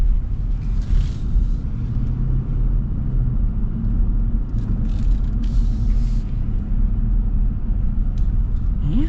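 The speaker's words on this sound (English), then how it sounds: "with a naturally aspirated V8 you just get that smooth V8 power delivery" Steady low engine rumble and road noise inside a 2025 Ram 1500 Rebel pickup with an eTorque Hemi V8 while driving, a constant smooth drone with no speech.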